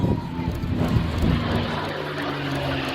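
A propeller plane flies past at an airshow in East Fortune, a steady mid-distance engine drone with a low hum that holds throughout, moderately quiet against a wind-like background.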